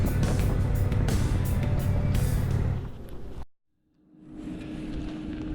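A 2019 Indian Springfield motorcycle on the road, a loud rumbling engine with wind roar that drops away into a brief silence, then a steadier, lower engine drone rises back in.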